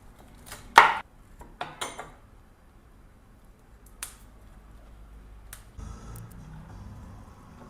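A knife cuts broccoli in a home kitchen, a few sharp isolated chops and taps spaced apart, crisp and close in an otherwise quiet room, with no talking.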